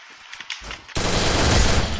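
MP40 submachine gun in the video game Free Fire Max fires a dense, loud sustained burst after a second of quieter clicks and game noises.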